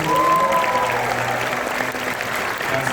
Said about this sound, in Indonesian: tepuk tangan dulu untuk Pak Ganjar semua